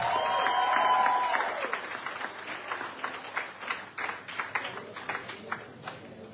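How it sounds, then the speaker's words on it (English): Scattered clapping from a crowd, fading into a patter of individual claps, with a brief tone early on. "Let us just one more round of applause"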